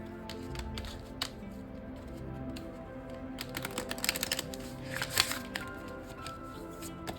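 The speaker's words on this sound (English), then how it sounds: "let's shuffle another card" Tarot cards are shuffled and riffled close up, soft rapid flicking bursts that build into a quicker flurry before settling.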